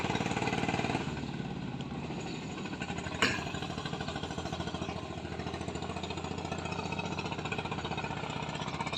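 A six-wheel dump truck with a 14-horsepower engine and slow gearing runs steadily, its engine droning and rattling throughout with one brief sharp knock partway through.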